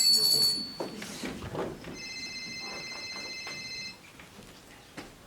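A telephone rings indoors, giving one steady electronic ring of about two seconds over a busy background of room noise and faint movement.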